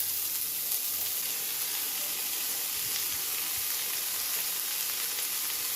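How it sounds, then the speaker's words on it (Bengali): Onions hit leftover fish-frying oil in a pan and sizzle loudly and continuously at close range, a steady crackling hiss with no break. "মাছ ভেজে নেওয়া তেলের উপরেই আমি পরিমাণ মতো পেঁয়াজটা দিয়ে দিব।"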